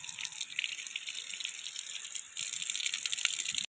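Steady rush of tap water running over cut fish in a kitchen sink, with a rattling, splashing texture that grows slightly louder near the end, no voices.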